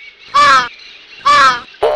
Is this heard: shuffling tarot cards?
no